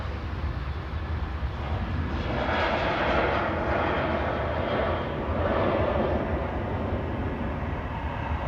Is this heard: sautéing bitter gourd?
no